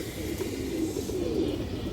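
A fresh, very handsome pigeon with a garra neck coos softly and continuously at close range, a low rolling murmur with no talk over it.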